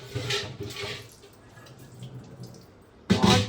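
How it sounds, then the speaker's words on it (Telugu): Water pours and splashes into a copper glass being washed, with a few short splashy bursts, a quieter trickle in between, and a final louder gush at the end. "కొంచెం లోపల నీళ్ళు పోసి పెడదామండి."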